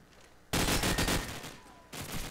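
Bursts of automatic gunfire from a competitive first-person shooter match, loud rapid volleys filling most of the moment, a brief pause, then another burst starting up.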